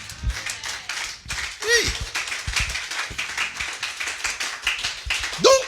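Church congregation clapping in rhythm, with cheers and shouts of praise for Jesus rising over the claps and a voice calling out among them.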